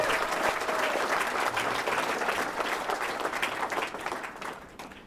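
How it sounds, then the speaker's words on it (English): Strong, sustained applause from a crowd at a Philadelphia 76ers event unveiling an Allen Iverson statue, loud and dense before tapering off toward the end. "Please give every one of those names some applause."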